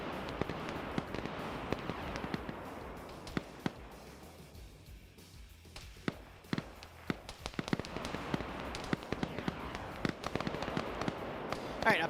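Dagger missiles pound a position in a military video game, a rapid string of sharp, distant blasts and crackles that thins out briefly midway and then intensifies, with low radio chatter underneath.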